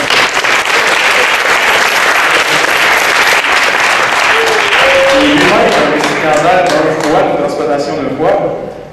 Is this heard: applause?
yes